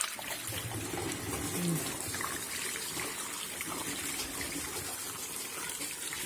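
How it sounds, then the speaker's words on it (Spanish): Clean water is poured into a funnel and drains through the dirty windscreen washer reservoir of an Opel Vectra C, a continuous close trickle and splash that holds at an even level throughout. "agua en el embudo."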